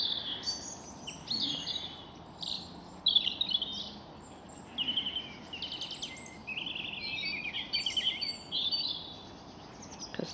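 Small birds chirp and tweet around a garden bird feeder, with bright, fairly close calls coming in repeated bursts over a steady outdoor background hiss.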